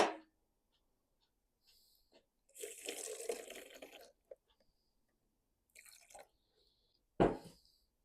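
Warm water poured into a plastic bottle holding sugar and yeast for a homemade fly trap, a short splashing pour of about a second and a half, close by, followed by brief handling clatter.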